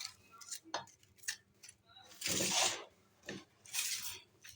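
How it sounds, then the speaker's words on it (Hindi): A knife slices the tip off an onion and peels at it, quiet close crunching and rasping strokes with a few small taps on a board, two longer scraping cuts standing out. "और पहले आपने प्याज का सिरा काटना है इस तरह से।"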